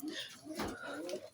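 A female teddy pigeon gives a brief, soft cooing call, faint and close, over low room noise.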